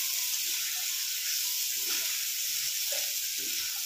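Spices sizzling in hot oil after chili powder goes in, a continuous bright hiss with soft bubbling pops underneath, steady and close, with no talking.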